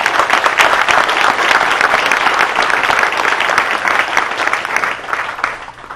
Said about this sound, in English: you deserve a great round of applause today as well